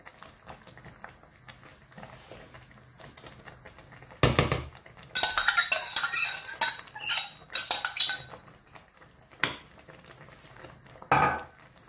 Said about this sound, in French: Je mélange bien pour ne pas que ça colle en dessous.